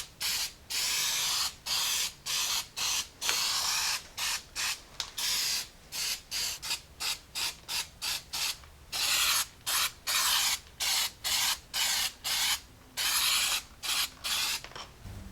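A spray can is painting behind a Jeep Cherokee XJ unibody frame stiffener on the rear section, sending out many short, close hissing bursts in an uneven rhythm with brief pauses between them.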